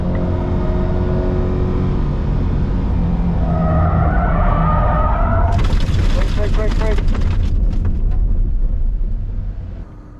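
A Corvette C8 on a Las Vegas race track steps out and slides off the circuit under light throttle. A loud engine drones throughout, then crunching and rattling noise follows as it leaves the track.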